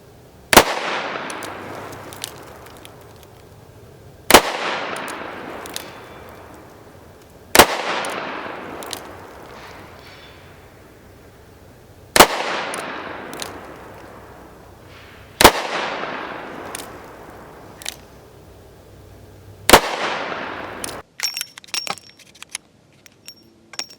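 A Taurus 44 revolver fires 44 Special rounds, six sharp loud shots spaced a few seconds apart, each ringing out with a decaying echo, followed by metallic clicks and clatter.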